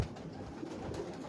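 A Tony breed pigeon coos softly on a Lahore rooftop, the low murmuring call steady and close over faint background noise, with no talk.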